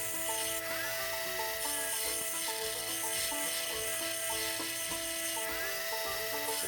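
A file rasps steadily back and forth across the bevel of a chunky tanto knife blade, with rhythmic close-up scraping strokes at a quiet level and no talking.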